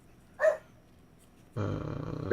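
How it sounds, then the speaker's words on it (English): A dog gives a short, quiet growl, then a longer rougher growl that starts later and runs to the end, close by in a quiet room. "That's not my dog."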